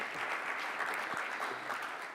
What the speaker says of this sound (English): One more time, round of applause for them, please